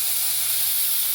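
Onion paste sizzles loudly in hot oil in a pan in a village kitchen, a steady close-up hiss with no other sound.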